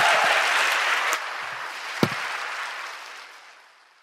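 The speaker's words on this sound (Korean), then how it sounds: "다시 한번 박수 부탁드리겠습니다." Studio audience applause on a Korean talk radio show: a steady wash of clapping with one sharp clap near the middle, tapering off gradually into quiet over about four seconds.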